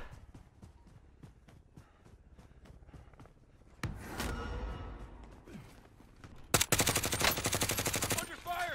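Gunfire in Call of Duty Warzone: faint scattered shots at first, then a loud burst of fire around four seconds and a dense rapid automatic volley near the end.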